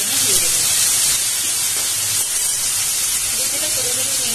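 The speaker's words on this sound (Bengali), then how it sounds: "আমি এবার খুব অল্প তেলে চিংড়ি মাছটা একটু ভেজে নেব।" Prawns frying in a small amount of oil with chopped chillies for a spicy prawn masala fry, giving a steady, loud broadband sizzle and hiss throughout, with faint voice-like tones underneath.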